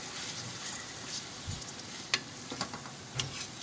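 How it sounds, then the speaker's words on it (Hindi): Meat seasoned with salt, chilli, turmeric and ground coriander for haleem fries in a pressure cooker with a steady sizzle, broken by a few sharp clicks and scrapes from stirring. "मसाला अच्छी तरह भुन जाएगा"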